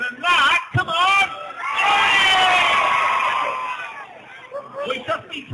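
A louder crowd cheer rises at the 2008 Trowbridge Christmas light switch-on, a long roar of screams and whoops held for over two seconds, with a voice calling out before it and chatter as it dies away.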